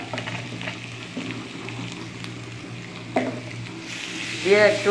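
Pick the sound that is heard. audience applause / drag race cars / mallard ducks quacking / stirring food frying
stirring food frying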